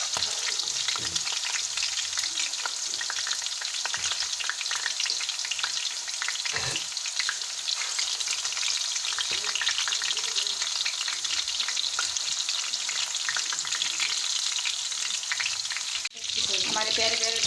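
Garlic and green chillies fry and sizzle steadily in hot oil in a pan while lentil dal is being made. A continuous close crackle runs throughout, with occasional stirring scrapes and a brief clatter near the end.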